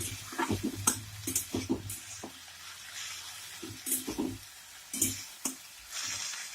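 Fenugreek greens (methi shak) fry in a pan while being stirred, producing a soft sizzle broken by bursts of scraping and rustling in uneven strokes, close and moderately loud, with no voices.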